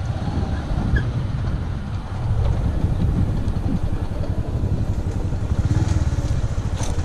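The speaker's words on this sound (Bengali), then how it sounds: "আমরা এখন পাহাড় থেকে নামবো বাইকে করে" A motorbike descends a hill on a badly broken, rough road, its engine a steady loud rumble with rattling jolts throughout, close up and with no voices.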